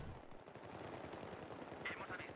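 Gunfire in the Battlefield 3 video game, a steady run of dense rapid shots filling the whole moment at moderate level, with bursts overlapping one another and no pause.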